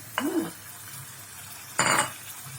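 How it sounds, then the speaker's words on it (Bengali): Stock is poured bit by bit into a pan of Kolkata-style chicken bharta: two short bursts of hissing sizzle and stirring, separated by a quieter pause, close and clear. "এবার স্টকটা একটু একটু করে দিতে থাকছি।"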